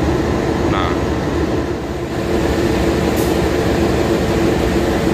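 Passenger train KA Mataram, economy class with air-conditioned cabins, running on the Jakarta to Yogyakarta line, heard as a loud, steady rumble of wheels and carriage noise throughout, with a brief higher whine near the middle.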